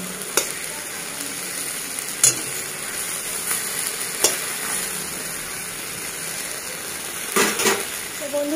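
Tomatoes fry in an open pan as they are turned over, giving a steady low sizzle with a few sharp clinks and scrapes of a utensil against the pan.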